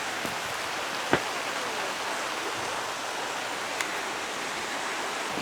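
Steady rain falling outside a garage, a continuous hiss with a couple of faint knocks and no talking.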